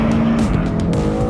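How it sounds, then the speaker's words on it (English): A 2023 BMW M2 launches hard in a roll race against an Audi RS3, its engine roaring loud and continuous with a rising tone and a brief tire squeal. "And the BMW is away."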